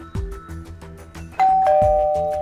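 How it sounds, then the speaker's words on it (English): A doorbell rings with a clear two-tone ding-dong chime that sustains and slowly fades, heard over a steady rhythmic background of soft beats. "The doorbell rings."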